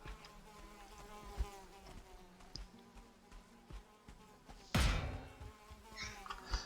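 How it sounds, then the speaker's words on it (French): A mosquito in the video game Valheim buzzes with a thin, persistent whine over a quiet backdrop, broken by a sudden loud thump near the end. "Oh Moustique!"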